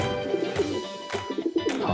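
A pigeon coos a few soft, rounded times at close range, the calls rising over a steady background hum.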